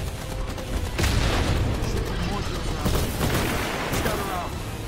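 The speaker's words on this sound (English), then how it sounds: "Heads up, grenade!" Grenade explosions in the video game EarthFall, several heavy booms in a dense firefight with rapid gunfire, loud and close, and players talking over the noise.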